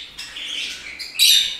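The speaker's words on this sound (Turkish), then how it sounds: "o uçtuğu zaman diğer kuşlar da hemen bağırmaya başlıyorlar" Budgerigars and finches in an indoor bird room break into chirps and squawks, a busy twittering that swells and then peaks in a sharp, loud burst of calling near the end, with no voices over it.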